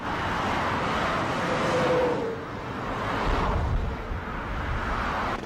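Highway traffic sweeps past as a steady broadband roar, with vehicles swelling and fading in passing whooshes, continuous and fairly loud, with no voices.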